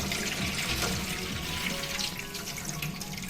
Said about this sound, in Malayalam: നമുക്ക് ചെറുപയറും റാഗിയും ഉലുവയും നന്നായിട്ട് കഴുകിയെടുക്കാം.